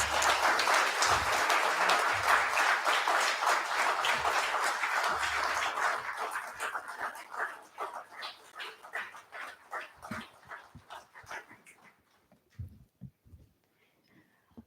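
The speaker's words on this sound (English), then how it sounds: "So guys, look forward for your big clap" At a book launch and talk for Management Day, an audience breaks into loud, dense applause that runs for several seconds, then thins into scattered individual claps before fading out.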